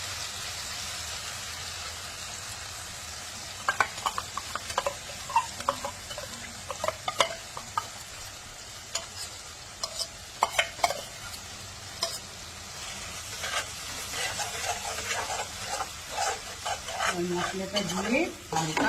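Tomatoes and spices fry in a pan while being stirred, a steady sizzle broken by frequent scraping and clinking stir strokes, busiest in the second half.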